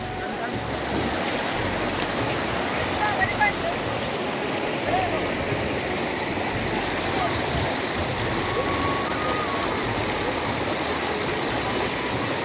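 The flooded Sina River rushes continuously with a broad, roaring wash of heavy water, steady and fairly loud, swollen after heavy rain, with no talk.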